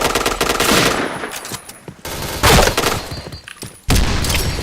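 Rapid automatic gunfire bursts in the shooter game Point Blank, loud and close, separated by brief gaps and a sharp single shot.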